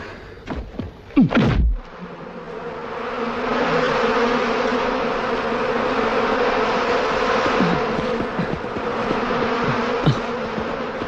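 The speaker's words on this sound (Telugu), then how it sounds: "ఈ తేనెటీగల వల్ల ఏం కనబడటం లేదు." A swarm of bees buzzes in a dense, steady drone in a jungle scene from the 1998 film Tarzan and the Lost City, following a few thuds and knocks at the start.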